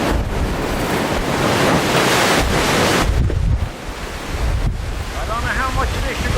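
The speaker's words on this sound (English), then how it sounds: "This is wind." Strong storm wind in Newfoundland roars hard against the microphone, a dense gusting blast that dips briefly, then surges again, with a voice faintly heard near the end.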